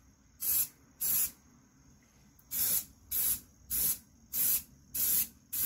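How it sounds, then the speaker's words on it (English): A spray can of paint hisses in seven short, even bursts over old dumbbells, each about half a second long with brief gaps between them, close and fairly loud. "Remember to always keep the paint moving. You never wanna stay spraying on one spot"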